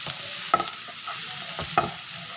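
Prawn roast masala with salt is sautéed in a pan, with a steady sizzle and two sharp spatula scrapes standing out, close and alone.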